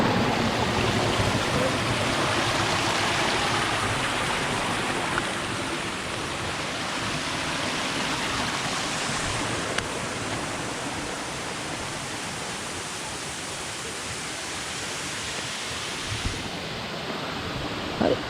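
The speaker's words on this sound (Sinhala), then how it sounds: "හරි අපි දැන් ඉන්නේ ලවස්ලිප් දියාලේ යට කොටසේ." Lover's Leap waterfall in Sri Lanka, heard from its lower section, makes a continuous broad rushing roar of falling water, loud and steady throughout, easing very slightly over time.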